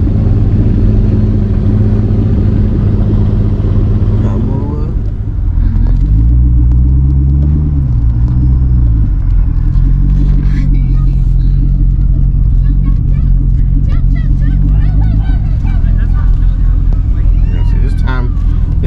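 Loud car engines rumble and rev continuously at an outdoor car meet, with people talking over the steady low roar.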